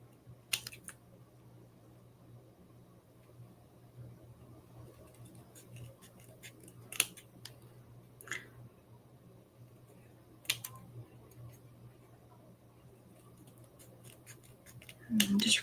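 Scissors snipping paper for a junk journal, a few sharp scattered cuts spaced apart over a steady low hum, with a louder rustle of paper handling at the end.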